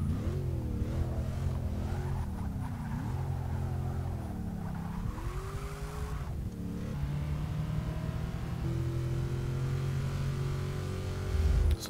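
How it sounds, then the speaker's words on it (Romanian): Race car engine in the Forza Motorsport 6 video game, revving up and down through repeated gear shifts with brief tire squeal, a steady loud engine drone lasting throughout with no voices. "Sună destul de bine motorul, dar nu sună spectaculos."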